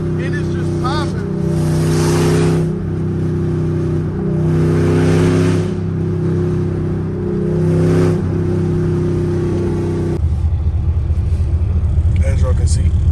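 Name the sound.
Dodge Hellcat loud exhaust popping and revving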